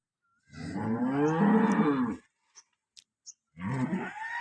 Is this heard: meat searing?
no